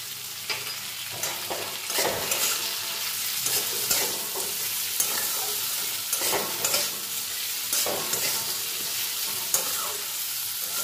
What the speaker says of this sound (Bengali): আলুটা আরেকটু নাড়াচাড়া করে নেব।